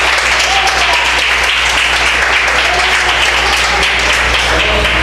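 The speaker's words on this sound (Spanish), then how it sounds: "Dele palmas a Jesús." Steady, loud applause from a church congregation at an evangelistic service in Chiclayo, Peru, with continuous clapping throughout and no break.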